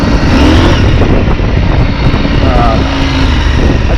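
A KTM 890 motorcycle fitted with a slip-on exhaust rumbles loudly and steadily as it rides a canyon trail, its engine drone filling the scene without letup.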